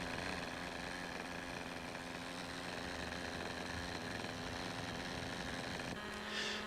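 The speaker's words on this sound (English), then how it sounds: "He advances the throttle lever and runs the engine at about 1/3 throttle" A model helicopter engine running at about one-third throttle while the machine sits on the ground, a steady buzzing drone with a constant pitch that holds the whole time and rises briefly near the end.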